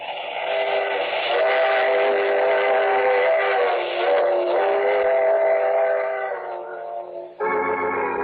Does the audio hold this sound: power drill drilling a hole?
no